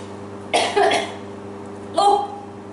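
A home baker in a kitchen coughs after breathing in cocoa powder while whisking brownie batter, two close, sharp coughing bursts separated by a short pause.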